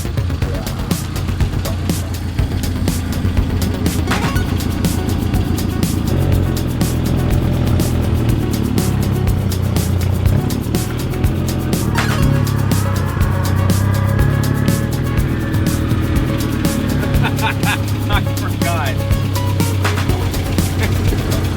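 An old Volkswagen Scirocco driven around a front yard, its engine droning loudly and continuously, rising and falling with throttle and gear changes throughout.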